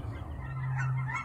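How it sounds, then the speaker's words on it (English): Geese or ducks honk nearby, giving a few nasal calls that merge into one sustained loud honk over outdoor background noise. "I don't know if they sound like geese, but they look like ducks."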